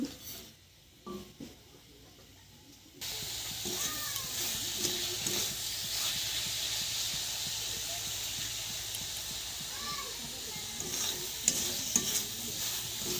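Coconut filling for coconut laddoos is stirred in a pan over a low flame, with a constant gentle sizzle and repeated scraping stirs that start after a quiet opening.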